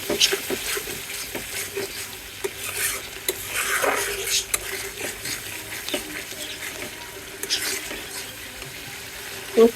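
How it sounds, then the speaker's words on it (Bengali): Bay leaf, cardamom, cinnamon and ground spices stirred in a pan for cooking chicken with sweet pumpkin, giving soft scraping strokes and a faint sizzle over steady background hiss, with a sharp clink near the end. "আমি ভালো করে কষাই নিব মশলাগুলো"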